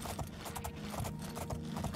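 Horse hooves clip-clopping in a video game, a steady rhythmic trot of sharp, fairly faint hoof beats with a short louder sound at the end.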